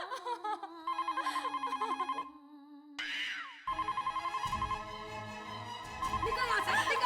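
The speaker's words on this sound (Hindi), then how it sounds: "फोन की घंटी बज रही है" An old-fashioned telephone bell rings in repeated bursts, pausing between rings, with brief sitcom background sounds and music-like tones mixed in.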